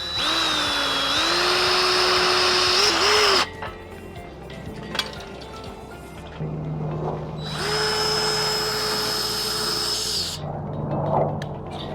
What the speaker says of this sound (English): then you can use your power tool to finish it off